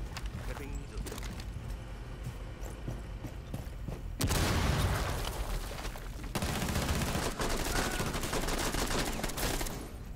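Rapid gunfire and explosive bursts from the video game Rainbow Six Siege, dense and continuous, with excited voices talking over the shooting.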